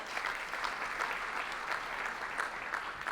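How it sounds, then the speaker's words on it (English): Dense, steady applause from an evening audience at a community society event, a continuous wash of many hands clapping at even loudness throughout. "So please give yourselves a round of applause tonight."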